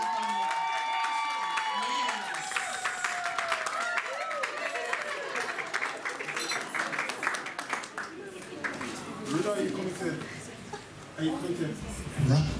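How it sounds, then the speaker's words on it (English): An audience at a hotel event in Birmingham breaks into sustained applause with some cheering, the dense clapping carrying on for several seconds before thinning as voices talk. "Let's clap our hands."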